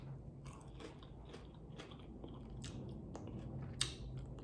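Crunchy air-fried zucchini chips being bitten and chewed close up, a series of soft crisp crunches with one sharper bite near the end, no talking.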